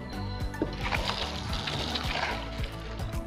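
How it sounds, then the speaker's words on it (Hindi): Water leaks and splashes from the handle of a CPVC ball valve with the valve turned on, a continuous close-up trickle and patter with scattered drips and small spatters. "यहाँ से इसकी हैंडल में से पानी लीक हो रहा है।"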